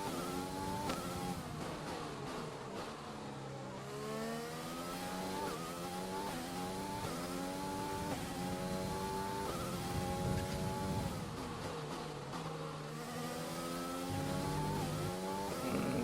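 Formula 1 race car engines in the video game F1 2020 rev loudly and steadily, climbing and dropping in pitch through gear changes, with a shift around four seconds and brief dips, and no talk.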